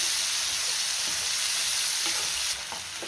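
Ground tomato-onion chutney sautéing in hot oil in a pan, a steady loud sizzle and frying hiss with faint scrapes as it is stirred, heard alone without talk.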